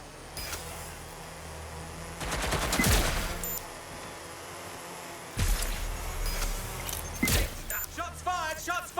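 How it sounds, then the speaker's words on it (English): Bursts of gunfire from the video game Watch Dogs Legion, with several loud rapid volleys separated by quieter stretches and some mechanical clatter and voices in between. "Shots fired! Shots fired!"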